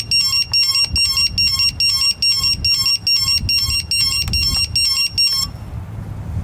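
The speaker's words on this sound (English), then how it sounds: "Guess that was the beeper switch." Rapid, loud electronic beeping from a 7-inch FPV drone's beeper in a steady repeating pattern of bursts, close by, stopping abruptly near the end with faint background noise left.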